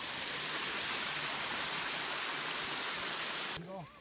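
River water rushes near a waterfall as a dense, loud, steady roar of broadband noise, close by. It cuts off sharply near the end, followed by a brief faint voice.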